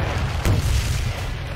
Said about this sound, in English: Boom, explosions.